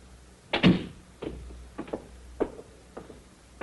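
A door is opened and shut indoors, with a few soft thuds and clicks spaced over a few seconds, faint and with no talking.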